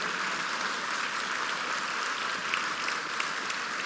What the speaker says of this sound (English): let's give a round of applause for our emeritus board members, current board members